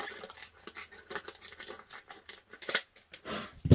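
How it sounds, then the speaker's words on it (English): Trauma shears snipping through plastic vacuum-seal packaging on a trauma kit, a quick series of sharp close cuts and crinkles, louder toward the end. "Trauma shears cut the plastic real well."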